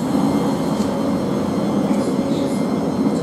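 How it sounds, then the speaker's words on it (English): A steady rumbling hum of a Thameslink Class 700 electric train in London, droning evenly at close range without a break. "This is the train I went on, 700."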